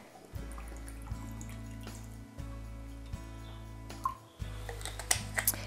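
A steady low hum runs throughout with brief gaps, with light splashes and clinks of water toward the end as rosemary water is poured into a pot.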